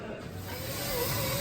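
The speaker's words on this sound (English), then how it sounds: "I think you just sprayed the lens of the camera." Aerosol spray can hissing close to the camera, a loud continuous spray lasting the whole short burst in a garage.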